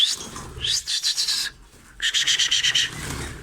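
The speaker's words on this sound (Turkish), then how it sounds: "cıvıl cıvıllar, neşeliler" Pet cockatiels and budgerigars chirp in two lively bursts of rapid, high trills separated by a short pause, sounding near and clear.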